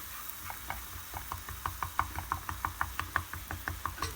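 Kuymak (mıhlama) being stirred continuously in a pan for a two-person breakfast: a steady run of quick scraping taps and clicks of a utensil against the pan over a soft cooking hiss, with no talking.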